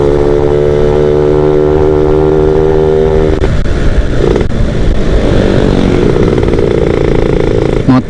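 A loud motorcycle engine revs hard and close at a Shell petrol station, steady droning then rising and roughening as the throttle opens, sustained throughout without pause.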